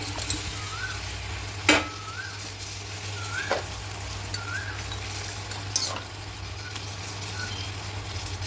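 Fish slid into a pan of simmering eggplant curry for a spicy fish jhal, with a steady low sizzle and bubbling throughout and a few sharp clinks of a spoon or utensil against the pan.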